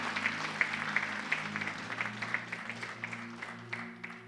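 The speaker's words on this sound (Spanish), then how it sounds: "Vamos, denle un aplauso grande" A church congregation applauds during a pastor's sermon, giving a brief round of dense, rapid clapping over a sustained low tone.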